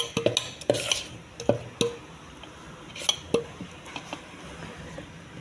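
A ladle stirs moong dal batter in a bowl, making close, wet squelching taps in an irregular rhythm with brief clinks against the side. The sound stays fairly quiet, and no one talks.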